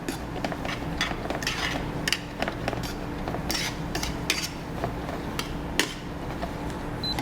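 Shrimp scampi pasta tossed with butter in a pan, giving a steady clatter of utensils and metal cookware with irregular sharp clinks and taps, close and continuous.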